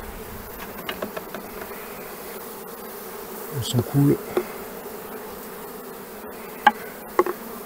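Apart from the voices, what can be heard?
honeybees buzzing while being brushed off a hive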